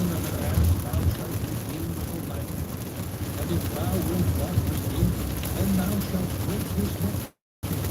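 Steady rain pattering and hissing throughout, with a brief dropout of sound near the end.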